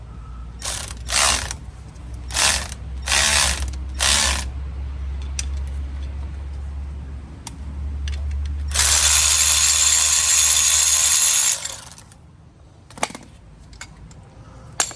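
A ratchet tool winds back the brake caliper piston on a 2008 Honda Civic, with several quick close clicking bursts, a longer continuous rasping stretch, and a few scattered clicks near the end.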